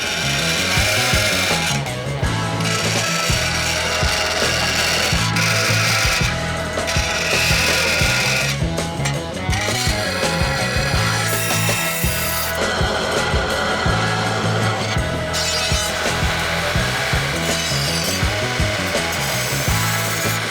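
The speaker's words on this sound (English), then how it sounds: "So let's go do that in the bandsaw real quick, and then we can proceed." A bandsaw cuts tabs into a metal crossmember part for a 1967 Barracuda, a loud continuous grinding whine with repeated cutting passes and brief dips as the piece is repositioned.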